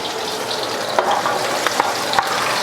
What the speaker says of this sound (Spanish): Unas 5 cabecitas de ajo. Entonces lo vamos a sofreír